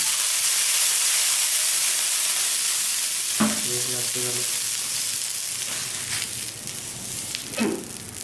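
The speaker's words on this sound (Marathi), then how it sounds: "थोडंसं तेल लावूया आणि त्याच्यावर पाणी शिंपू।" Water sprinkled onto a hot, oiled iron tawa sizzles in a loud, steady hiss that slowly fades, with a few light scraping and tapping sounds against the pan.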